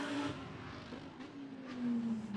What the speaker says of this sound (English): that very distinctive Audi engine note